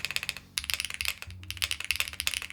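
Rapid typing clatters on a Xenox mechanical keyboard fitted with HMX Hydra switches, a close run of crisp clicky keystrokes that stops briefly near the middle before picking back up, with no voices.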